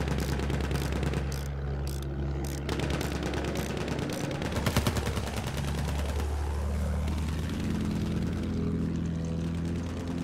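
Battlefield 1 combat with a fighter plane's propeller engine droning continuously under dense, rapid machine-gun fire and scattered gunshots, loud and close throughout.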